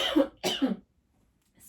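Two quick, close coughs from a woman sitting and chatting about quilting, followed by a short silence and a faint bit of noise at the end.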